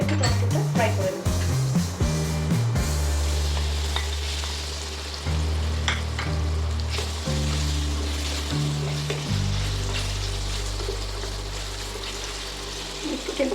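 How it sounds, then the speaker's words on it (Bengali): Tomatoes fry in a pan for a white paneer gravy with curd, giving a steady close sizzle under a broad hiss, with a few utensil scrapes and low tonal background hum throughout. "অল্প করে একটু টমেটোটা ফ্রাই করে নেব"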